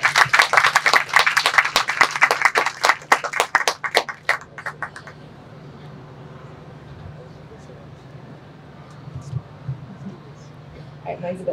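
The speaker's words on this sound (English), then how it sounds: "That deserves applause, if you would, please." Wedding guests at Disney Springs break into applause after a vow, a burst of clapping for about four seconds that thins into scattered claps and then gives way to quiet room tone.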